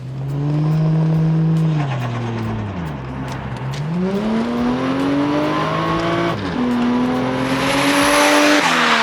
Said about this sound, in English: this thing has like a torque reduction fart on the shift